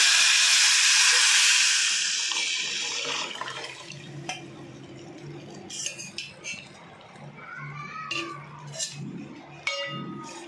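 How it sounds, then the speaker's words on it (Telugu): Tomato rasam poured into a hot tempering with asafoetida gives a loud, close burst of hissing sizzle that fades over a few seconds into softer bubbling, with scattered clinks of a utensil against the pan. "ఇప్పుడు ఇందులో చారు పోసుకోవాలి."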